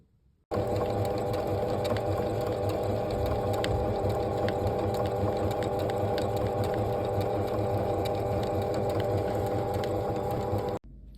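A sewing machine runs steadily while stitching a handmade bag with straight or zigzag stitches, a close, even mechanical whirr that starts abruptly, holds for about ten seconds, then stops.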